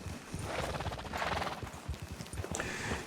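Horse hooves clip-clop in a steady, even rhythm in the Western role-play game RedM, close and fairly loud, with a faint whinny-like tone near the end and no talking.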